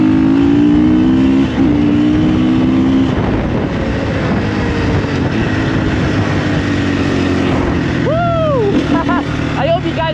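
KTM EXC-F 350 dirt bike riding a green lane, its engine droning loud and steady close to the rider with shifting pitch, while wind rushes past and a voice speaks briefly.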